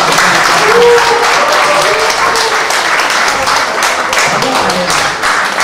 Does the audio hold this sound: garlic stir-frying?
no